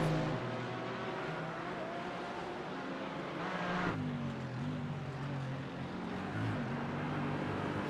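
GT4 race cars lapping the Bathurst circuit, engines droning loudly and continuously with rising and falling pitch as gears change, a steady close-up roar throughout.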